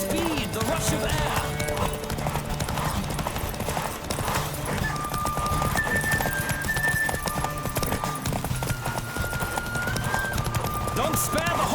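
Galloping hoofbeats from a horse race in The Witcher 3, quick and relentless, with an occasional whinny, loud against busy game music, and character voices speaking over the pounding rhythm.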